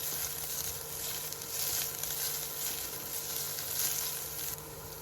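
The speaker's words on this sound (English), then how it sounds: "I stir the shrimp until it's almost cooked." Shrimp stir-frying in a hot pan for shrimp and egg fried rice, giving a steady, close, continuous sizzle with faint scraping of stirring throughout and no talking.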